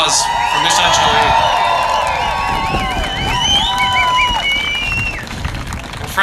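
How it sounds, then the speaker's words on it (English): A crowd at an outdoor rally in Washington in support of Ukraine claps and cheers, a continuous wash of applause with whoops and whistles rising and trailing off, fairly close. "So let's give another round of applause for Miss Angeli."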